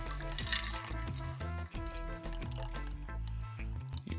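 Beer poured over ice into a tall glass, the liquid splashing and filling steadily beneath loud, continuous background music.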